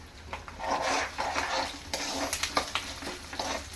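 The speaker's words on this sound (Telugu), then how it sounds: "సో ఇవి ఫ్రై అవుతున్నాయి కదండి" A tempering of spices frying in a pan for tamarind rice, soft sizzling under stirring scrapes and light metallic clinks of a spoon against the pan, close and fairly quiet with no talking.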